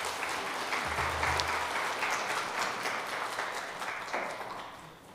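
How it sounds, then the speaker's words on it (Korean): A church congregation at a Sunday afternoon service claps warmly in a steady, even wash of applause that fades a little toward the end, with a brief low murmur partway through. "여러분들 큰 박수로 환영해 주시면 감사하겠습니다."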